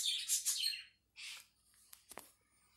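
A pet parakeet chirps in a burst of bright, high twittering, then a few shorter calls and sharp chips follow after a brief pause, close and fairly soft in a quiet room.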